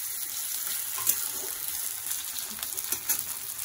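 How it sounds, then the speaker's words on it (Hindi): Chopped vegetables for semiya upma fry in a pan with a continuous, bright, crackling sizzle close by, broken by occasional light stirring scrapes and ticks, and no voices. "इसे आप लगभग 10 से 15 सेकंड के लिए भूनें।"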